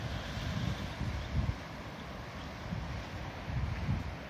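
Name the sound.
wind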